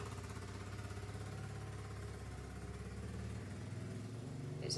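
A motorbike engine putters in a steady, faint, low-pitched drone, sounding distant throughout, with no voices.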